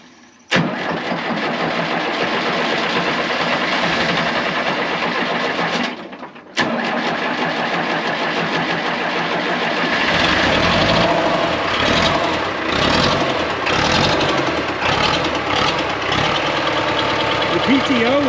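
A 1960 International 460 diesel tractor cranks and tries to start, its starter churning loudly with a brief break, then the engine catching roughly and knocking before faltering, with people talking nearby.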